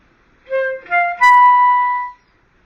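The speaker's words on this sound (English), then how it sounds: "Let's listen to the flute first." A flute plays a short phrase of Messiaen's blackbird passage: a few clear, bright notes stepping upward into a held tone that swells and fades, solo, with no voices.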